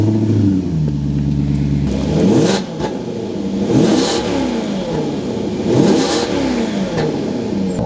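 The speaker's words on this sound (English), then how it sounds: "Let's have a listen to that Ferrari V8 raw to life." A Maserati GranTurismo S with a Ferrari V8 fires up and settles into a steady idle, then gets blipped in three sharp, loud revs that each spike and fall back, close by with no talk.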